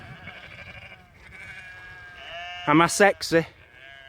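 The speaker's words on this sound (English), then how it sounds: "I think they must think I've got food, or I look like a really fit sheep." Several loud sheep bleats close by in an outdoor field, three bursts in quick succession near the end, following a voice talking over faint wind and rustling.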